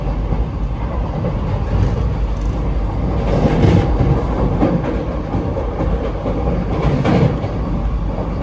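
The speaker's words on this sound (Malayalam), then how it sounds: "ട്രെയിനിന്റെ വേഗത കൂടുന്ന നോക്കിക്കോ" A Vande Bharat express on the Ernakulam to KSR Bengaluru run near Erode, heard from inside as it speeds up past 90 km/h: a steady, loud rolling rumble of wheels on rail with rising swells of rattle and rush.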